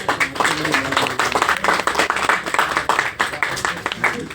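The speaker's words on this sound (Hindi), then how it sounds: "वाह वाह वाह वाह, तालियों से" Audience clapping after a Hindi poem recitation at a poetry gathering: dense, steady applause from many hands, close and fairly loud, with some voices mixed in throughout.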